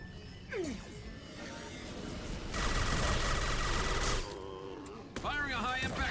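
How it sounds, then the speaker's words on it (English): Heavy gunfire from a Mass Effect 2 Legendary Edition firefight on Insanity difficulty, a dense, loud burst dominating the middle few seconds, with talk and other combat noises around it. "Firing a high impact shot."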